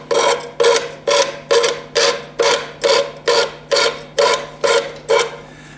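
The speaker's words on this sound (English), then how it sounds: "Quick brush with a file" A metal file rasps across a hand-forged arrowhead socket in about a dozen even strokes, each a harsh, close, loud scrape with brief gaps between, over a faint steady hum and no talking.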